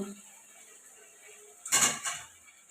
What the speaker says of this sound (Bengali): ভেজে রাখা আলুটা দিয়ে দিলাম